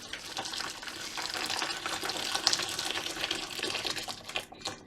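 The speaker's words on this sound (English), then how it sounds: "So I'm just going to chuck in some hot water." Hot water pours steadily into homebrew bottling equipment, a bottling wand with connector tubing to a tap, while brewing a Wilko IPA. A continuous, close gushing splash runs throughout with small sloshing fluctuations and no talking.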